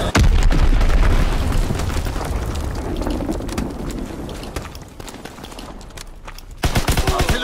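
Artillery barrage in Call of Duty WW2, loud continuous booming explosions and rapid gunfire rumbling for several seconds, easing slightly before a fresh burst of blasts at the end.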